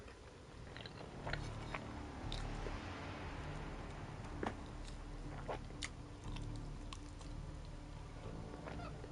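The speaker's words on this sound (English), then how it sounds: "I apologize if you guys can hear my chewing." Close, quiet chewing of battered fried Chinese chicken. Soft crunches and wet bites repeat irregularly over a low background, with no talking.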